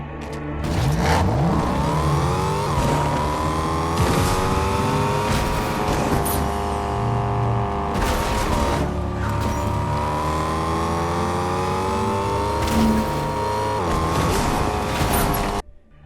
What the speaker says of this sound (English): Engine sound is a high-pitched V8 with a loud supercharger.